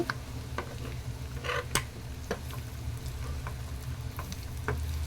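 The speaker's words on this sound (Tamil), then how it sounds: "இப்போ பாருங்கள் ரெண்டு பக்கமும் சூப்பராக ஃப்ரை ஆகிடுச்சு பாருங்கள்" Egg roast fries in a pan with a steady, soft sizzle, broken by a few sharp clicks and taps of a utensil against the pan close by.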